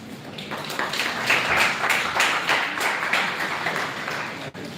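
An audience at a college seminar session claps after a talk: dense, sustained applause from many hands, moderately loud and even throughout, ending abruptly.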